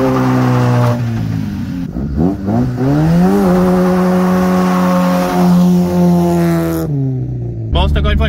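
A Honda Civic engine revs hard in repeated surges during a failed burnout attempt, pitch climbing and holding high, with loud sustained roaring and a brief drop near the end.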